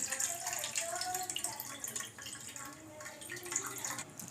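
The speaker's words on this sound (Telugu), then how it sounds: "ఇంకో గ్లాసు వాటర్ పోసి" A glass of water pours and trickles onto tamarind in a container close by, a quiet, continuous liquid splashing with brief uneven gurgles.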